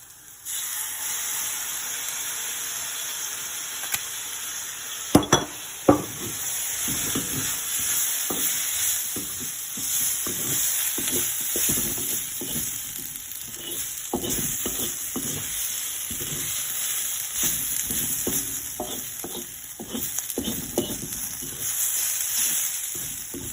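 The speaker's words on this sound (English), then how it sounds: "Spicy and sour potato stir fry." Sliced potatoes in a spicy and sour stir fry frying in a hot pan, a continuous bright sizzle and hiss with repeated scraping and tapping from stirring, close and steady throughout.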